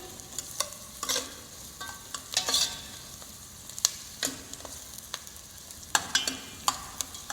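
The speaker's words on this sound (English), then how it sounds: "as the vegetables are cooking" Vegetables frying in a pan for a tomato sauce, with a steady soft sizzle broken by sharp scraping clicks of stirring, close and moderately quiet, no voices.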